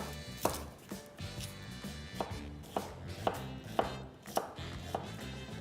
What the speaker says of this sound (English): So we're gonna start with chopping up a red onion.